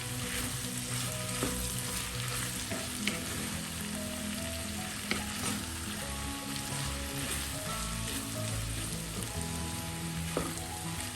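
A potato, carrot and beetroot stir-fry sizzles steadily in a pan while a spoon scrapes and turns the vegetables, with a few sharp clacks against the pan over a constant crackling hiss.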